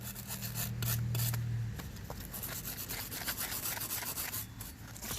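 A wire brush scrubbing the pad contact surface of the brake rotor on a 2013 Ford Focus rear brake, giving continuous close, gritty rasping strokes with a brief low hum near the start.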